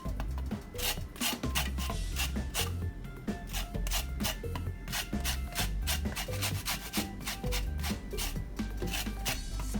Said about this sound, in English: Let's add some lemon zest.